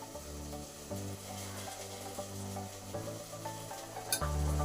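Vegetable stems fry in hot oil in a wok for a Bengali shukto, giving a steady close sizzle with a low background hum throughout.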